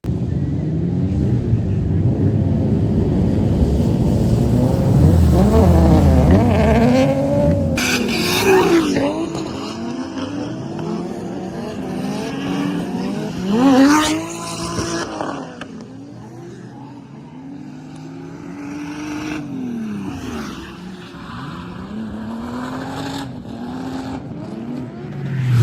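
A turbocharged drift car corners at a track, engine revving and rising in pitch repeatedly, with tire squeal and skidding swelling and fading over about twenty-five seconds, loud and close.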